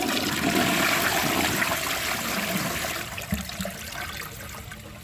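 A 2011 Duravit Starck 3 toilet flushes a washcloth down, a loud rushing swirl of water that gradually fades into gurgling and trickling refill.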